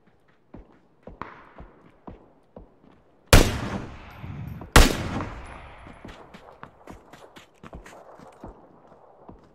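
Two loud, sharp gunshots crack a second or so apart in a video game, standing out against a run of quieter clicks and soft thuds. Players talk around them.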